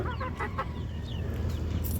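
Native country hens cluck in short, soft bursts against a constant low rumble, with no talking.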